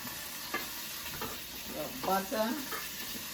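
Butter sizzling in a hot pan with already-cooked food being stirred, a soft steady frying hiss broken by a few louder spatters and scrapes near the middle.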